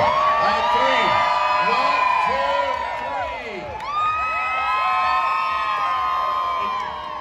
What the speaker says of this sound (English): They're already cheering like you're not even counting down yet.